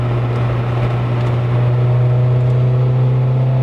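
Original Nissan Sentra 200SX with an SR20DE engine taking a corner, a steady loud engine drone with a strong low hum throughout, heard from inside the cabin.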